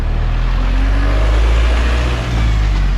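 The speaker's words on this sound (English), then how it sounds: "A military truck carries people." A military truck loaded with people rolls past on a street in a Mexican city, its engine a loud, steady low rumble that fills the whole stretch with no break.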